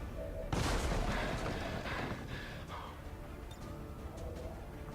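An Advent soldier's shot in XCOM 2, a single loud blast with a rolling, decaying tail followed by fainter scattered echoes and rumble, with a voice talking faintly underneath.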